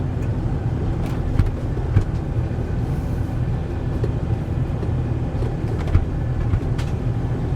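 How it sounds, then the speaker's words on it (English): Heavy rumble of a 2022 Renegade RV rolling slowly over speed bumps, a steady low road drone with a few faint thumps and creaks as the wheels cross. "Right now we're going to go over our speed bumps."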